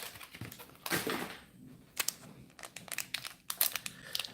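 Foil wrapper of a Bakugan Battle Planet booster pack crinkles and then tears open with a sharp rip, followed by quick crisp crackles and rustles as the contents are pulled out, close and fairly quiet.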